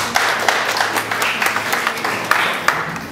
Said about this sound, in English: Let's give the Lord a clap of praise.